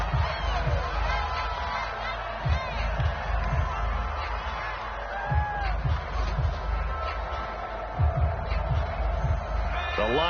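A stadium crowd in an American football video game murmurs and swells in the background, with a few louder cheers and whoops rising and falling beneath a commentator's voice.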